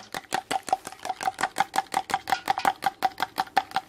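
Duck eggs beaten by hand with a spoon in a bowl: a brisk, steady run of close tapping strokes, roughly five per second, with no talking.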